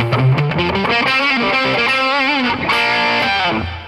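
Sustained distorted electric guitar through a tube amp playing a melodic line with chords, washed in reverb, loud and continuous with no voices.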